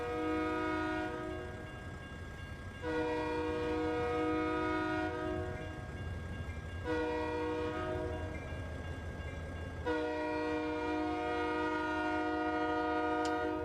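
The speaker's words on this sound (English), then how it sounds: "Looks like a lumber train." A lumber train rolls past in the American Truck Simulator driving game, sounding loud, sustained horn blasts that stop and restart several times over a steady low rumble of the moving train.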